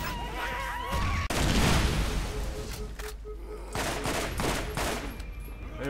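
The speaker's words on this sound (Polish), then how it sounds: "Rzucę im jeszcze granata pod nogi." Grenade blasts and dense bursts of gunfire from a Borderlands video game firefight, loud and continuous, with a heavy explosion about a second in and rapid shots crackling throughout.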